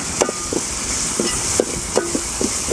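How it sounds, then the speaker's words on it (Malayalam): Ginger garlic paste sizzles in a pan for a bone marrow mutton dish, a steady hiss of frying broken by a few light taps and knocks of a spoon stirring against the pan. "അടുത്ത് നമുക്ക് ജിഞ്ചർ ഗാർലിക് പേസ്റ്റ് ഇട്ട് കൊടുക്കാം. നന്നായിട്ട് ഇളക്കിയെടുക്കണം."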